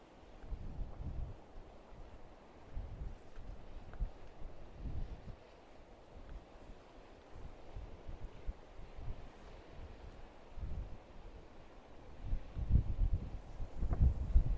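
Gusty wind buffets an open microphone on the coast at Monk's Bay on the Isle of Wight's Undercliff, a steady low rumble with irregular bursts that swell louder near the end, with no voices.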